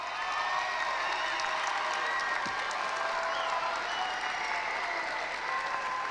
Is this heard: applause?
yes